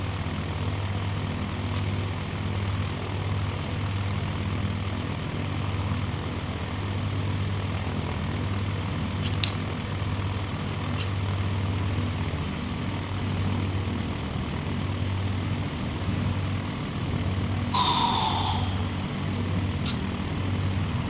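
A propeller aircraft engine in Microsoft Flight Simulator 2020 drones steadily and loudly throughout, a continuous low hum with a few brief higher clicks near the end and no talking.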